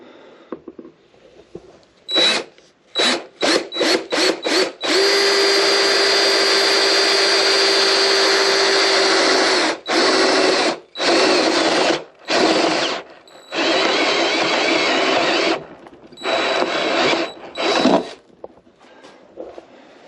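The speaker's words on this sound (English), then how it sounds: "I'll just take that whole rib right out when I drill it." A power drill whines in repeated short bursts drilling through a rib during a small solar generator build, then runs in several longer stretches with brief pauses between them, loud and close.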